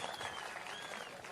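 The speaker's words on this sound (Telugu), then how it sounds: "గట్టిగా చప్పట్లు కూడా అభినందించాను" Audience applause at a farmers' outreach event in Andhra Pradesh, a steady burst of clapping from a gathered crowd, fairly loud and continuous across a short moment with no talk over it.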